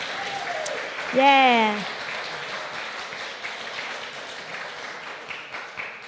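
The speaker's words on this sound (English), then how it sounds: "A huge applause to you for first." An audience claps at a hackathon's closing ceremony. The moderate, diffuse clapping runs under a brief rising whoop, and a voice briefly speaks.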